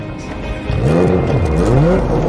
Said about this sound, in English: The Turbo has a completely new engine.